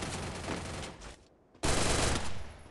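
Rapid automatic gunfire in the Free Fire video game, with an MP40 submachine gun firing loud dense bursts, a brief lull, then another sustained volley.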